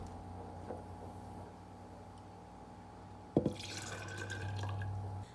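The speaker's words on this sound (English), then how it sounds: "The next ingredient that we're going to add is 2 ounces of Gerber or Parents' Choice mixed fruit juice" Two ounces of Gerber or Parents' Choice mixed fruit juice poured into a feeding mix, a brief liquid splash and drip followed by a soft trickle over a steady low hum.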